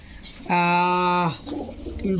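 A single pigeon coos once, close and clear, at a pigeon market where live birds are sold, with market chatter faint around it.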